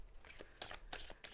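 A deck of cards being shuffled, with several quick riffling bursts of papery flutter, close and fairly quiet, and no talking.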